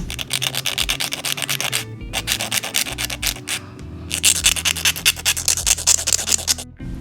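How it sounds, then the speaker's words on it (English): Fingernails are filed with a nail file in quick, rhythmic rasping strokes. The rubbing is close and crisp, with a brief pause partway through and no talking. "I'm just going in and kind of filing the nails a little bit more to my desired liking"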